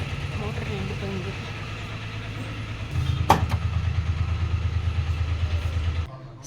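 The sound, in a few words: electric water pump motor running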